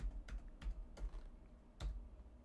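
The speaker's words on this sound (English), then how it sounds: "So archaic typing." A computer keyboard is typed on during a stock-trading stream: four sparse, distinct key clicks spaced unevenly, fairly quiet, with no talking.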